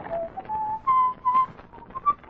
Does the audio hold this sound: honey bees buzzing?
no